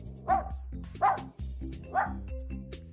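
A dog named Spark barking: three separate close barks at a steady spacing, with no talk over them.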